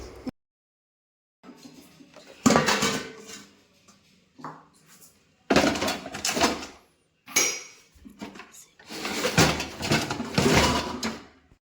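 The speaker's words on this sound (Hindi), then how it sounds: "कुछ बर्तन ही मैं ऊपर रेक पे रखती हूँ, बाकी सबको मैं यहाँ नीचे रख दूँगी।" Dishes and kitchen utensils set onto a rack in a home kitchen, heard as several bursts of clattering and clinking separated by short pauses, fairly close by, with no talking.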